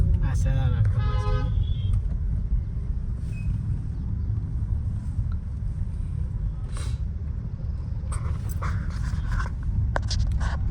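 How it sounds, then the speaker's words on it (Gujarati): Busy street traffic in Vadnagar, with several car horns tooting near and far over a constant engine rumble, and people talking throughout. "વડનગરમાં ટ્રાફિક આમ ધીરે ધીરે વધે છે"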